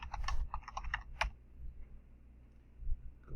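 Keys clattering on a computer keyboard while a web search is entered, a quick burst of clicks in the first second or so, one sharper tap, then quiet room hum.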